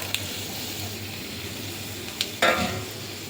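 Oil sizzles steadily in a pan as red chillies fry, with a brief stir and a louder hiss near the end.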